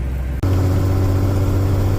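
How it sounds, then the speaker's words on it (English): Steady low engine drone of tractors running continuously, with a brief dip near the start; loud and close, no voices. "can't hear anything over the tractors."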